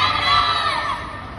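A crowd at a talent audition in Makassar cheers and shouts for a contestant, a loud burst of high voices and whoops that fades within about a second.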